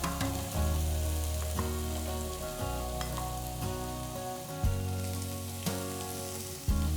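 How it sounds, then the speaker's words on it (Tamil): Chopped onions sautéing in oil and ghee in a pan with whole spices for palak chicken, a loud continuous close sizzle with periodic stirring scrapes and clunks, no voices. "இதில் 2 பெரிய வெங்காயம் பொடியாக நறுக்கி போட்டு நல்லா வதக்கணும்."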